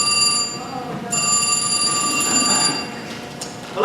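Ringing telephone played as a stage sound effect during a high school production of the comedy Harvey, a steady electronic ring with bright sustained tones, fairly loud, briefly pausing near one second and then continuing, with faint room noise beneath.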